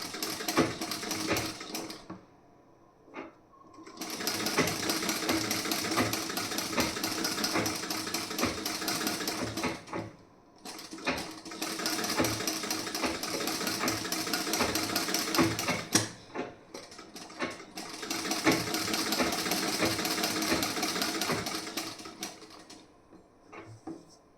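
A sewing machine runs through seam stitching on a blouse piece in three long bursts, each a steady rapid mechanical rattle, separated by short quiet pauses with the odd click.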